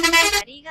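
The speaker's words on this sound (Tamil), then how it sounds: "இவ்வளோ தூரம் ஹார்ன் அடிக்கிறேன், விலக மாட்டேங்கிறான்" A bus horn blares in one loud, steady, close blast, then cuts off and gives a shorter, softer toot.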